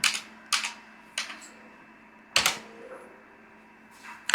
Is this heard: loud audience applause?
no